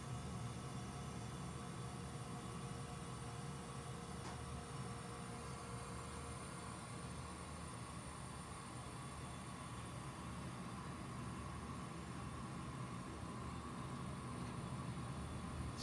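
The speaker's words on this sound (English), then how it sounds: "And there goes the blower." A Carrier HVAC blower runs as a faint, steady broadband whoosh of moving air with a low hum underneath, holding an even level throughout.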